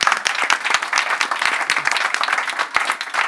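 A panel audience applauds a funding-round announcement with a moderate round of clapping, individual claps distinct in a steady patter that carries on throughout.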